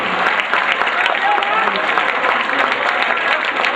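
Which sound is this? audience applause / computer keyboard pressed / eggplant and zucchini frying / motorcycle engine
audience applause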